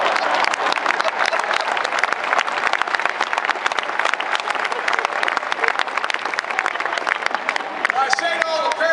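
At a naval academy commencement, a large crowd applauds and cheers in a dense, sustained wash of clapping that holds steady throughout, with a voice emerging near the end.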